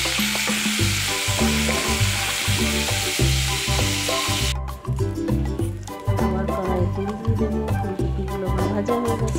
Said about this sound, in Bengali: দেখো আমার ফুলকপিগুলো লাল লাল করে ভাজা হয়ে গেছে।